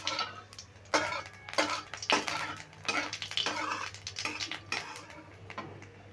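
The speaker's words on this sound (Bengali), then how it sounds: "এবার ফোড়নে দিয়ে দিচ্ছি আমি গোটা জিরে। জিরাটা একটু নেড়ে ভেজে নেব।" Whole cumin seeds frying in hot oil and being stirred, heard as a series of close clinks and scrapes of a utensil against the pan in irregular bursts over a faint sizzle and a low steady hum.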